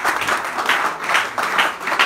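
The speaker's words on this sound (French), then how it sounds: "Est-ce qu'on peut acclamer le Seigneur?" A church congregation applauds during a Sunday service with steady, rolling clapping that swells in rhythmic waves. The sound is close, full and fairly loud, with no speech over it.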